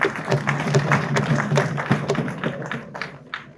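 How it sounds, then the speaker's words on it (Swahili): A crowd of university students at Mzumbe University claps to welcome first-year students, a burst of scattered, fairly close applause that thins out toward the end. "Tujipigie makofi wote."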